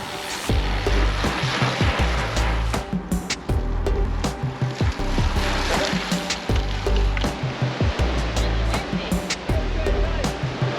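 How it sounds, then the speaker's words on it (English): Strong wind buffets the microphone at a Yosemite waterfall, a loud, continuous roar of gusts and rushing water filling the whole clip with no talk. "So we're here at the waterfall, right there, and it is really windy."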